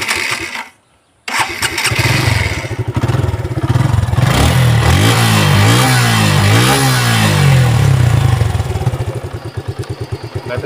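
A 2023 Suzuki Monotone motorcycle engine starts after a brief silence, settles into a loud, close idle, then is revved up and down several times before easing back to a rhythmic idle.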